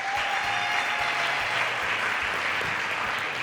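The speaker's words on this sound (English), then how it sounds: "Keep it going for our superwoman, Princess." A studio audience on a cooking show applauds steadily, loud and dense clapping sustained throughout without talk over it.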